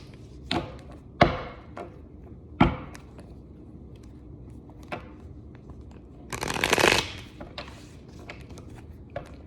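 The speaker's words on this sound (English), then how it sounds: "One more shuffle" A deck of playing cards shuffled several times in quick riffles, with sharp flicks and a longer crisp burst near the end, close and fairly loud.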